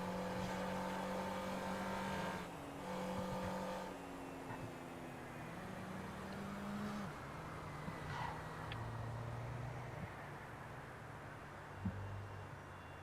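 A video game car engine drones and revs at moderate volume, with sustained engine tones that shift pitch in steps as it accelerates, and no voices.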